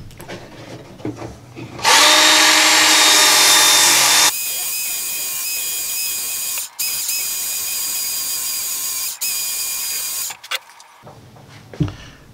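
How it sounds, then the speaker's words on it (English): Cutting disc on a power tool grinding and smoothing the blade of a Tramontina 18-inch machete, a loud high-pitched whine in several sustained bursts with brief pauses between, close up and alone. "I might try to smooth it out a little bit with the cutting disc"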